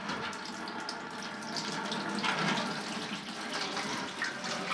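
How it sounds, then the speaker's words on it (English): Engine coolant pours steadily out of a 2001 Ram 3500 Cummins, a continuous close splashing rush of liquid that stays even throughout. "This is all coolant coming out."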